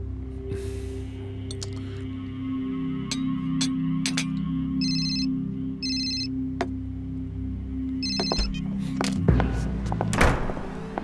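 A mobile phone rings in short repeated bursts, four electronic ring pulses spaced about a second apart, amid thuds and bumps in a quiet indoor setting.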